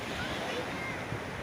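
Waves and wind at Nipah Beach in North Lombok: a steady, loud rush of surf mixed with wind buffeting the microphone, continuous and unbroken throughout.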